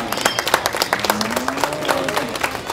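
An audience at a livestock show bursts into steady, lively clapping for a breed division, with many hands overlapping throughout and a faint tonal sound running underneath.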